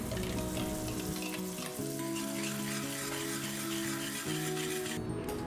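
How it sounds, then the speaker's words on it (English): Tomato puree with turmeric, Kashmiri red chili powder and coriander powder sizzles steadily in a pan, a close, even frying crackle that runs unbroken beneath continuous background music. "Now add the tomato puree and cook it well for 5 minutes."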